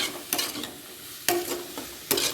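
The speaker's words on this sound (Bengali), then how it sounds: "ভালো করে এটাকে কষিয়ে নেব" Vegetables being stir-fried with cumin powder and turmeric in a pan, a few sharp scraping stirs spaced through a soft steady sizzle.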